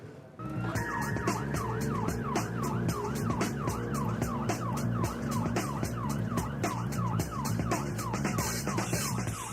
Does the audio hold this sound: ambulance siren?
yes